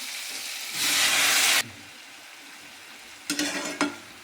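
Boiled potatoes tipped into a hot frying pan for a sweet-sour-spicy white potato curry, with sugar already in the oil, give a loud sizzling burst of nearly a second, then a second shorter flare of sizzling a couple of seconds later, with no voices.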